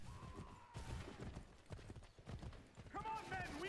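Rhythmic horse hoofbeats clatter steadily under a busy Assassin's Creed III Remastered game soundscape, with a horse whinnying near the end and voices talking.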